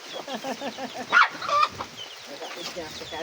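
Chickens cluck in quick, repeated bursts close by, with a couple of louder squawks in the middle and faint voices mixed in.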